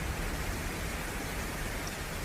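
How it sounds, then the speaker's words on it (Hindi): Steady rain falls in a dense, even hiss with no breaks, filling the space close by without any voices. "जय भैया, बहुत क्यों मस्त बारिश हो रही है"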